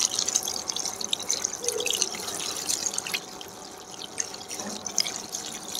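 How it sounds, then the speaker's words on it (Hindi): Water runs from a tap in a steady, fairly quiet stream while raw chicken is washed at a kitchen sink before making a Shinwari karahi, with faint drips and splashes and no talking. "सबसे पहले हमने चिकन को अच्छी तरह से वॉश करना है।"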